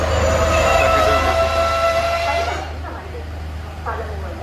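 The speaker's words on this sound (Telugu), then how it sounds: "సో ట్రైన్ వస్తుంది" A train pulls into a station on the Galle to Colombo coastal line in Sri Lanka, a loud steady rumble with high squealing tones that eases after about two and a half seconds, leaving quieter platform noise and a few soft thumps.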